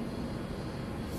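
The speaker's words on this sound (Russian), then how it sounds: "А вот вертолет еще один." A firefighting helicopter flies over a burning forest near Marmaris, Turkey, its engine and rotor making a steady, distant, broadband drone with no voices.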